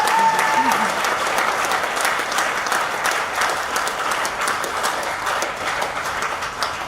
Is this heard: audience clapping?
yes